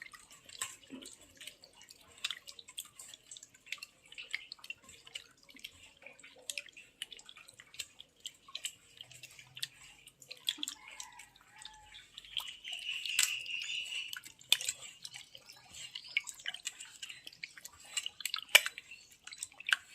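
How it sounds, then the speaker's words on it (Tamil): Goat blood being washed and kneaded by hand in water, heard as soft wet squishing with scattered drips and splashes, close and fairly quiet, with no voice. "அடுத்து ரத்தத்தை ஒரு 3 வாட்டி நல்லா கழுவி அலசி எடுத்துக்கணுங்க"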